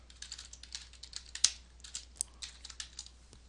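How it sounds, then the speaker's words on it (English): Computer keyboard typing a code comment, a quiet run of irregular light key clicks with one sharper tap standing out, close and alone. "After the closing form tag, I'm going to type in another comment"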